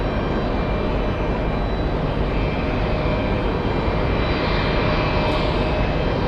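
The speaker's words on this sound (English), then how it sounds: "We have JetBlue flying in from West Palm Beach in Florida" A JetBlue jet airliner arriving at JFK airport produces a steady, loud roar that holds unbroken throughout, with no talk over it.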